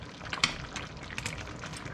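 A pot of rice bubbles softly at a gentle boil, with small irregular pops and gurgles over a quiet background.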